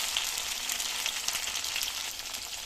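Green chilies fry in oil in a pan, a bright, steady close-up sizzle with crackling pops and no talking.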